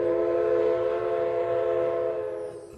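Durango & Silverton narrow gauge train running in winter, a steady close rumble with a sustained whistle-like tonal hum throughout, fading slightly at the end.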